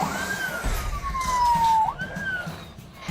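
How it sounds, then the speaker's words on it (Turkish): A police car siren wails nearby in a busy street, its tone rising and falling in a clear sweep over low traffic rumble. "Bu sefer polis aracı."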